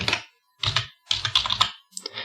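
Clusters of quick clicking keystrokes on a computer keyboard while entering values in Excel, close and crisp, arriving in short bursts separated by brief pauses.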